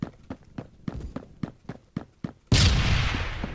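Gunfire and a grenade blast in the Roblox shooter Phantom Forces, a run of evenly spaced sharp shots followed by a sudden loud, rumbling explosion that fills the rest of the moment.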